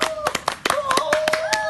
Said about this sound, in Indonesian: tepuk tangan untuk kelompok Lintang